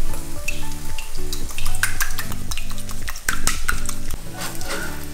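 Eggs are beaten with salt and black pepper for a Taiwanese omelet, a fork clicking quickly and rhythmically against a bowl in loud, close strokes over a tonal background.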